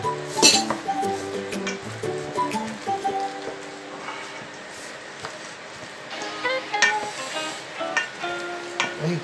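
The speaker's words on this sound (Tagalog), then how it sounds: "Haluin natin. Ayun, haluin natin ng mabuti." Okoy batter being stirred in a bowl, with a utensil clinking and scraping against the bowl in a steady, busy rhythm alongside dish clatter and a faint sizzle, up close and fairly loud, with no talking.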